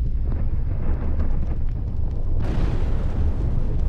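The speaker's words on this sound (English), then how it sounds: "The explosion comes out of that lava pool. It goes to the entire place." A lava pool erupts in the video game Volcanoids, releasing a loud, sustained, rumbling explosion that floods an underground cave with dense low roaring for several seconds. The blast grows brighter and hissier partway through.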